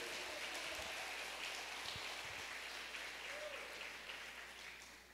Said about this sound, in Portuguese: Aplaude Jesus bem forte.